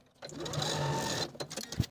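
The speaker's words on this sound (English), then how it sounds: "I'm just going to edge stitch it in place from one side of the opening to the other" A sewing machine runs a straight edge stitch on the belt of a knit dress, making a short, close burst of a second or so that ends in a few clicks and a soft thump.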